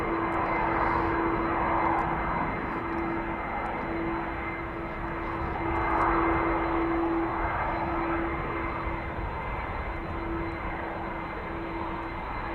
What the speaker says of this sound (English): KLM widebody exodus has begun. This is KLM flight 705 to Rio de Janeiro.